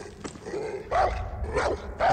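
Dogs barking in the video game Far Cry 6, three or four loud barks spaced across the moment over a low ambient game background.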